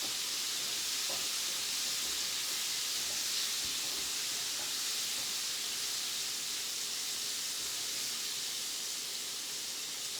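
Brined chicken pieces frying in peanut oil on a gas range give off a steady, even sizzle and hiss that runs throughout, with a few faint crackles and no talking.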